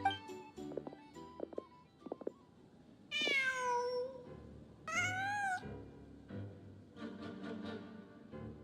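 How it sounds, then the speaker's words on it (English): Two drawn-out cat meows from the video game Genshin Impact, each a clear rising and falling wail, heard close and loud after a stretch of soft ambient game sounds and footsteps, with quieter background tones trailing afterward. "Huh. Just a cat."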